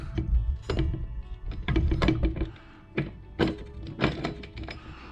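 A part sliding into place during a 904 Torqueflite automatic transmission rebuild for a 1973 Dodge Dart, with several dull metallic thunks and scrapes up close, no talking.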